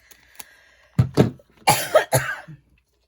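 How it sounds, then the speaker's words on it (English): A few sharp, close coughs in quick succession, preceded by a faint throat-clearing, with quiet pauses between bursts. "Felt the cough coming."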